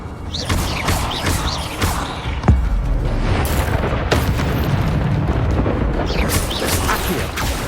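Incendio fire spell cast in the video game Hogwarts Legacy, a roaring, crackling burst over sustained rumbling, with a sharper thump partway through and several whooshing flares.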